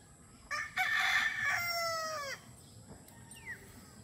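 Boston Black gamefowl rooster crowing once, a loud, drawn-out harmonic call lasting under two seconds, fairly close, with faint farmyard background and a brief distant bird chirp afterward.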